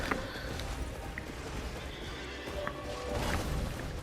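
The Tree Sentinel's armored horse in Elden Ring whinnies amid hoof clatter and battle noise, with short neighs rising over a dense, loud game soundscape.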